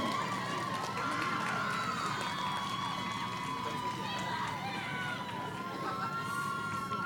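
Graduation audience at a CSU Chico commencement ceremony claps and cheers steadily in a large hall, a dense wash of applause with shouts and voices over it, lasting throughout.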